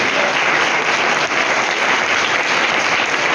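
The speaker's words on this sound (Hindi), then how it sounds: "कोई तालियां बजाएगा यीशु के लिए?" A church congregation at a Sunday sermon claps for Jesus in a dense, loud, sustained round of applause with no break and no voices on top.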